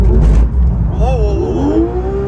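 A Porsche 992 GT3 RS accelerates on a track, its engine note rising in pitch through a short run, heard from inside the car.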